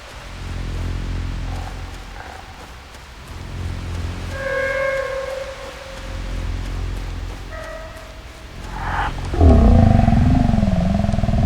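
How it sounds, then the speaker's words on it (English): Eerie ambient drone of the skunk gas in the video game Super Animal Royale, a low rumbling wash with scattered tonal tones and a rising, warbling howl near the end. "If you're inside the skunk gas while the safe zone is shrinking, there's this eerie ambient sound while you potentially choke to death."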